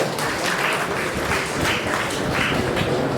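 Audience at a Rotary gathering applauding: sustained, even clapping from many hands, moderately loud and continuous from start to finish with no talk.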